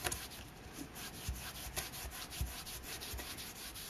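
Fingers rub wet Gelatos and gesso across paper in a soft, steady, close scrubbing, with faint rhythmic strokes repeating roughly every half second.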